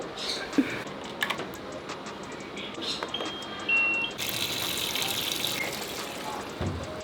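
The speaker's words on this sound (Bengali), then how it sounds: "এখানে কয়েকটা আধোয়া জামা কাপড় ছিল এগুলো এখন ধুয়ে ফেলবো" Clothes being washed by hand with water, splashing, trickling and pouring sounds close by with scattered clinks and rustles throughout.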